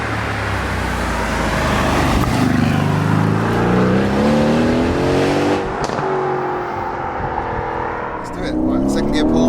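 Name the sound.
twin turbo V8 car accelerating hard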